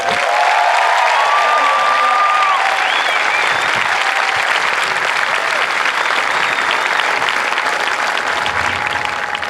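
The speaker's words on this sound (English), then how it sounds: "please, a round of applause" A large crowd applauds military training instructors at an Air Force basic military training graduation parade, with loud, sustained clapping and some cheering that fill the whole stretch, and a faint voice or whistle-like tone riding above.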